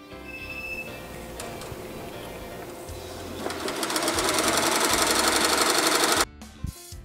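An embroidery machine runs a tacking stitch over appliqué fabric on a garment, starting with a steady mechanical hum and then rising into a loud, rapid, rhythmic needle chatter before stopping abruptly.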